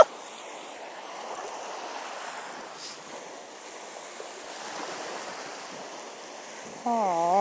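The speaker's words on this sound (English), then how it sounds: "Go swimming in the ocean, Tango." Ocean surf washing steadily onto a beach, soft and fairly distant, mixed with wind buffeting the microphone, with a brief sharper sound near the end.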